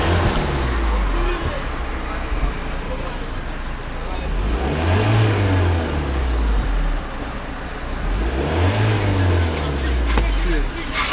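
A van engine revs up twice after a repair, rising and falling in pitch, loud and close, with road and traffic noise around it and a voice talking in the background.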